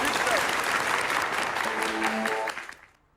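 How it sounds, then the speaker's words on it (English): An audience claps and cheers loudly at a band hall Halloween party, a dense burst of applause that tails off quickly toward silence at the end. "I'll give him a round of applause."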